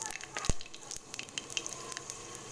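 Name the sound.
panch phoron spices sizzling in hot mustard oil in a wok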